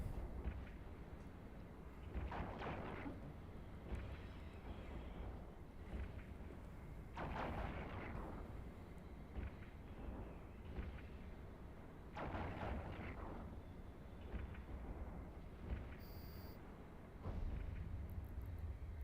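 Spaceship weapons fire in the space game EVE Online, a series of deep booming blasts and rumbling bursts at irregular intervals over a low continuous drone, fairly quiet overall.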